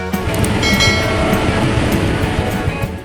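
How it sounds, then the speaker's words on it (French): Loud, steady mechanical roar of a large farm machine at work, a continuous engine drone with rattling and clattering from the machinery. "une machine conçue pour une récolte efficace du maïs grain"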